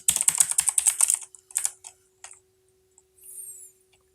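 Fast, close typing on a computer keyboard while entering data into a flowchart in Microsoft Visio 2019, a dense run of clicking keystrokes followed by a few isolated taps, with no talking.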